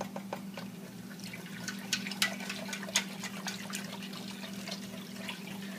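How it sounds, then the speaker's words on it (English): A whisk stirs corn and crab chowder vegetable stock in a pot, a faint, irregular series of light liquid clicks and splashes over a low steady hum, with no talk. "now I'm going to get a whisk and get this mixed in real well"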